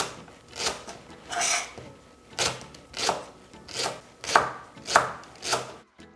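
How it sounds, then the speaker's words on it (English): A knife chops through leeks into rings on a cutting board, with about eight crisp, evenly spaced strokes, each a short crunch with a soft scrape. The sound is close and clear, with no voices. "We're going to prep the leek. I like to cut them into rings and then wash them afterwards."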